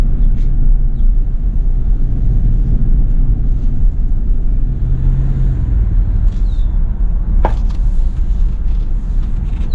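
Inside a 2011 Ram 1500 Laramie pickup, its 5.7L V8 HEMI with automatic transmission gives a steady, close, low cabin rumble that swells briefly as it pulls, with a sharp click near the end.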